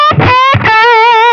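Heavily distorted electric guitar through an HX Stomp with a scooped, fuzzy tone: two short chugging hits followed by a ringing sustained chord, loud and close.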